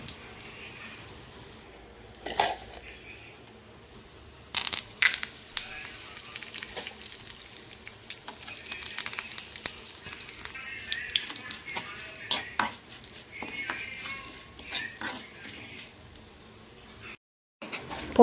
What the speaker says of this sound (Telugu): ఇంక ఇప్పుడు ఎండుమిర్చి అను పోపు గింజలు వేసుకుందాం